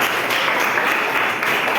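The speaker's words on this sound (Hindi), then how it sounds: "एक बार जोरदार तालियां बजा सकते हैं।" A church congregation at a Sunday service claps loudly together, a dense continuous wash of applause from many people, close and steady throughout with no talking.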